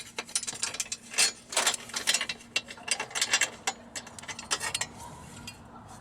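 A ratchet tightens the 10mm bolt on an Acura TL Type-S J-pipe in rapid bursts of close, sharp clicking, with brief pauses between strokes.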